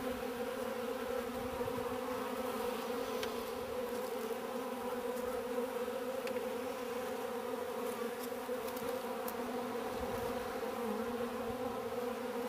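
Bees buzzing steadily outdoors around a feeding spot, a dense, even drone with layered tones that holds for the whole stretch at moderate, close-range loudness with no talk.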